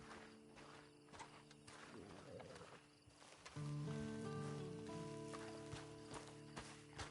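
Horse hooves clip-clop at a steady walking pace in a video game, alongside a droning musical score, with the music swelling louder partway through.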